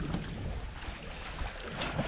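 Steady wind buffets a sailboat at sea in the Bay of Biscay, a constant rushing, blustery roar with water noise beneath, close and fairly loud throughout.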